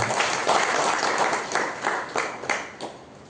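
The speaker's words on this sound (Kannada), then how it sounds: "ಅವರಿಗೆ ಒಂದು ದೊಡ್ಡ ಚಪ್ಪಾಳೆ ಇರತಕ್ಕಂಥ" An audience at a cooperative society's silver jubilee anniversary function breaks into applause, a moderate wash of many hands clapping in uneven bursts that gradually tapers off.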